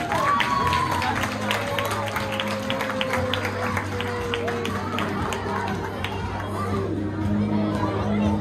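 Parents in an audience clap for children at a closing-day church event, scattered claps mixed with crowd chatter, children's voices and a talking adult.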